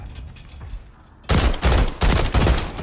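Rapid bursts of gunfire from a ranked multiplayer shooter game, several loud close volleys in quick succession with no talk over them.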